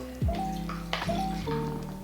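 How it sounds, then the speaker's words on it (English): Wine pours from a pouch into a glass in a steady gurgling stream, broken into a few glugs with rising tones as the glass fills, heard close up. "Pour our wine into the glass"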